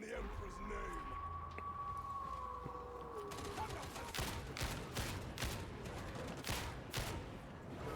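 Weapon gunfire in the video game Warhammer 40,000: Darktide, a rapid string of sharp shots cracking in the second half after a whining tone, loud and close, with a person talking at times.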